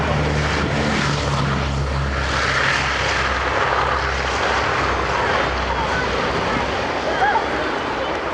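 WWII propeller aircraft, a B-25 Mitchell and a B-17, flying at the Dunsfold Wings and Wheels airshow 2016, a loud, steady multi-engine propeller drone that stays constant throughout.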